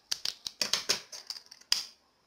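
Scissors snip through macrame bracelet cord in a series of sharp, close clicks, several quick cuts in an uneven rhythm ending with one louder snap, quiet and without talk.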